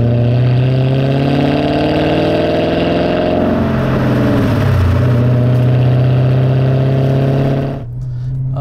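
A supercharged MG ZT 400 with a stock exhaust revs up and holds a deep, throbbing engine note close by, rising and falling slightly before dropping off sharply near the end.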